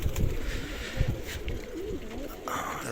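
Pigeons in a loft give low, throaty coos, several overlapping calls close by over a short stretch, with some background movement.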